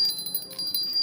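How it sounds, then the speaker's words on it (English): A small hand bell rings indoors with quick repeated bright metallic tinkles, close and fairly loud, several strikes in a short burst with no talk. "We have a little bell."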